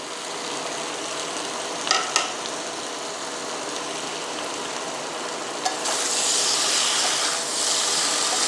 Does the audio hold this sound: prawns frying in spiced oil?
yes